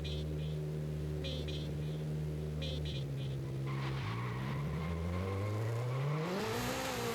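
A front-wheel-drive Honda Prelude launching off the line in a Forza Horizon 5 drag race, its engine droning steadily, then revving up through a rising whine as the tires squeal, loud and close with voices talking briefly over it.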